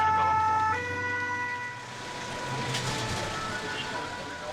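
An ambulance siren wails loud and steady as the vehicle sets off toward a road accident involving two cars in Corsica, with traffic noise underneath and its tone shifting as it moves away.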